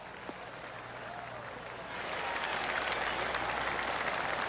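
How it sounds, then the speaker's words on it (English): Golf clap applause from spectators around the course in the PGA 2K25 video game: a steady wash of scattered clapping that swells louder midway and continues. "I can hear the golf claps around the course"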